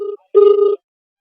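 A telephone rings on an outgoing call to a village panchayat official, giving two tonal ring bursts, a short one and then a longer one, followed by silence.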